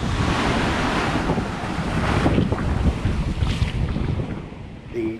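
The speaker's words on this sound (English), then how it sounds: "the storm began to pound against the walls of the restaurant" A storm drives strong wind and crashing waves against a beach restaurant in Thailand, a loud, continuous roar of surf and gusting wind buffeting the microphone, with no voices.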